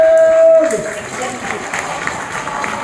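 Clapping from a wedding crowd bursts out and continues steadily for a few seconds, mixed with a loud voice and some cheering.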